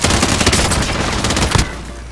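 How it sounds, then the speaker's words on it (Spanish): Rapid gunfire from the Warzone video game, a close, loud burst of overlapping automatic shots followed by a sharper single crack before the shooting breaks off. "Están disparando"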